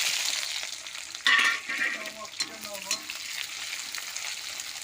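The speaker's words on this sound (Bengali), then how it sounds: "পেঁয়াজ তেজপাতা আর এলাচ আমি ভেজে নেবো প্রথমে" Onion, bay leaves and cardamom fry in oil with a close sizzle. A clatter of stirring comes in early, then scraping and a few knocks fall over the continuing hiss, and nobody speaks.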